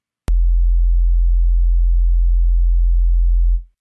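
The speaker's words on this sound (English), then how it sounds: "you're going to hear it's going to have this tone just playing constantly" A steady, pure sine tone from a signal generator holds unbroken at one pitch for about three seconds after a click, then cuts off.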